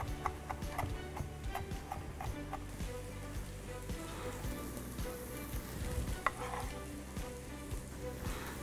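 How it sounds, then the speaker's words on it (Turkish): Flour roasting in a pan gives a continuous close sizzle, punctuated by regular light clicks and taps of a utensil scraping and stirring. "Bir yandan da unumuz kavruluyor"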